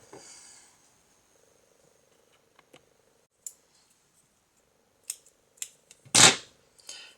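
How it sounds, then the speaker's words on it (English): Scissors snip crochet yarn for a floral doily in a quiet room, a few soft clicks followed by one louder, close cut. "Now we can fasten off and cut the yarn."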